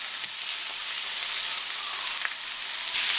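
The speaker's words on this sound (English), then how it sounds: "we'll check it after about 45 seconds to 60 seconds to see that it's getting that nice brown crispy sear that we're looking for." A beef rump roast sears in a hot pan, giving a continuous, even crackling hiss at close range that swells slightly near the end, with no voices.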